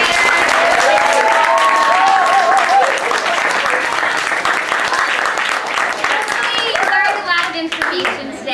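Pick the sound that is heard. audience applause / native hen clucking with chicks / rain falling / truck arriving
audience applause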